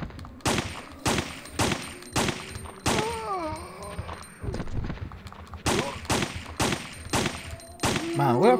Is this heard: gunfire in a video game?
yes